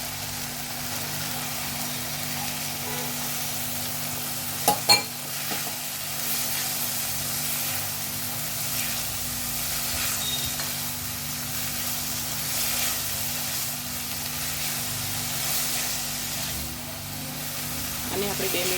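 Finely chopped cabbage and onion fry in a pan for green palak pulao, making a steady low hiss that runs continuously, with a couple of sharp clinks early on.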